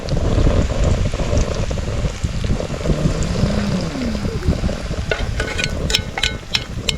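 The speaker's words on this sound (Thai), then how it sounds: "โอ้โหต้องทำงานแข่งกับลมครับ" Gusty outdoor wind buffeting the microphone with a constant rough roar, swelling and easing over several seconds, with a few faint clicks and knocks near the end and no talking.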